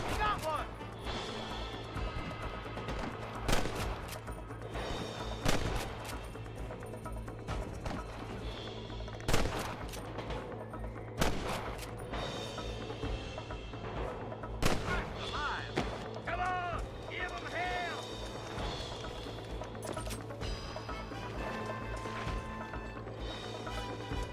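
Gunshots from a shootout in the video game Red Dead Redemption crack out at irregular intervals, loud and sharp, over a steady low drone with game voices and other sounds underneath.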